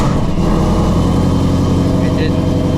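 Supercharged Shelby GT350 V8 engine idling loudly after a cold start, a steady deep rumble with a busy mechanical drone throughout.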